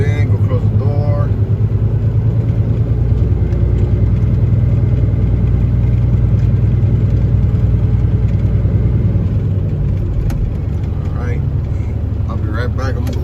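Peterbilt 379 truck with a CAT 3406B diesel engine pulling inside a building, its deep engine rumble steady and loud, easing toward an idle near the end, with a few faint clanks.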